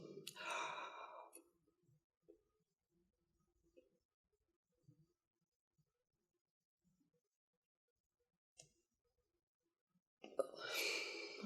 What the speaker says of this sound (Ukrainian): Глибокий вдих і видих.